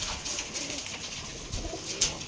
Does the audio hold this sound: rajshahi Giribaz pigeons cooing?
yes